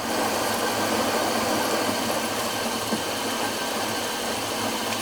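A mini lathe spins at 800 RPM, giving a steady, loud mechanical whir and hum with a continuous low drone throughout, with no voices over it.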